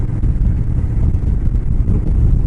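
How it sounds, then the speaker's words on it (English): Heavy wind buffeting from riding a Harley-Davidson Road King, an 800-pound touring motorcycle, on an Arizona highway on a windy day; a steady loud low roar fills the clip without pause, with no talk. "Warning, high winds, drive with care, and it is windy today"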